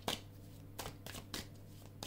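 Tarot and Lenormand cards shuffled by hand in a few quick riffling bursts, soft and close, with a steady low hum underneath and no talking.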